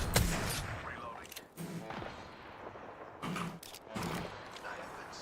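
Video game gunfire comes in several dense bursts of crackling shots, with reloading clicks and a shield recharge between them, fairly quiet overall.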